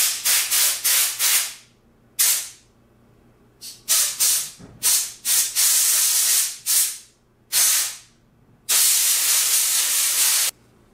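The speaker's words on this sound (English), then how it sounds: "I'm going to blow that out with some air" Compressed air blasting through an old Chandler by Bernina 950 industrial sewing machine, loud hissing bursts in a close, uneven sequence, some short and choppy, one long steady blast near the end.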